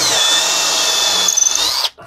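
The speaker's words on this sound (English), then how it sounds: "We drill small holes for pilot holes and big holes from the side we need to drill." A power drill boring small pilot holes during a demolition job whines steadily and loud for nearly two seconds, then winds down and stops abruptly.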